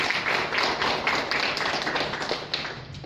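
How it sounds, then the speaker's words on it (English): A seated audience at a fitness expo gives a steady round of applause for an honoree, dense and fairly loud, holding evenly for about three seconds without a break. "A big round of applause for Suprita."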